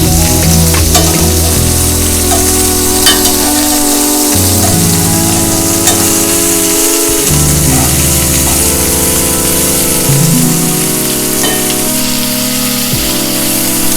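Shrimp sizzle and fry in a pan for Alfredo pasta, a loud, continuous crackling hiss broken by repeated scraping stirs of a utensil against the pan.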